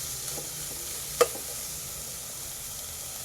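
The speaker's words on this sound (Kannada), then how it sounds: "ನೋಡಿ, ಚೆನ್ನಾಗಿ ಫ್ರೈ ಆಗಬೇಕು." Ingredients for almond soup fry in a pan with a soft, steady sizzle, quiet and close, broken by one brief sharp click or tap near the middle.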